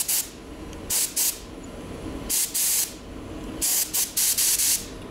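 WD-40 aerosol can sprayed onto a moped: a series of sharp, close hissing bursts, some single and some in quick pairs or triples, separated by brief pauses.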